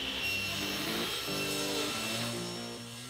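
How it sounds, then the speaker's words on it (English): A saw rips white oak molding for a cabinet side, cut to 1/4 by 3/4 inch, a steady dense cutting roar that holds throughout with slight shifts in pitch as the board feeds, close and loud. "I'll rip the molding for the sides of the cabinet at 1/4 inch by 3/4 inch"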